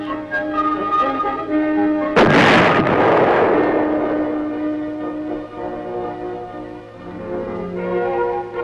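A tank gun fires a projectile during weapons testing at Aberdeen, a single loud, close blast with a long rolling, rumbling decay over a steady mechanical drone.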